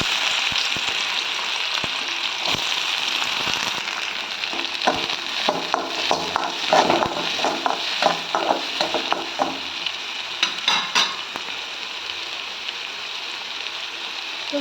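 Onions for an egg curry fry in hot oil with a continuous crackling sizzle, broken midway by a run of sharp scraping and stirring bursts in the pan, with no voices.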